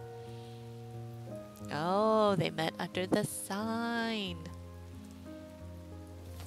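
Steady rain falls as background ambience in a narrative game scene, a soft constant hiss beneath a voice speaking a line over melodic music.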